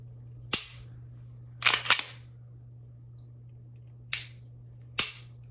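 Five sharp mechanical clicks of a pistol trigger pull and reset, close and isolated: one, a quick double, then two more spaced apart, over a quiet low hum; the first pull mushy, the second crisp.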